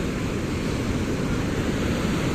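Ocean waves and surf roar in a broad, steady wash, loud and continuous, with wind buffeting the microphone and no talk.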